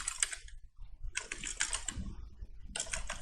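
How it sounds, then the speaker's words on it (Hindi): Quick bursts of keystrokes on a computer keyboard while text is typed into Photoshop, close and crisp, in three short clusters with pauses between and no speech. "मैं यहाँ पे अनब्रेकेबल टाइप करूँगा"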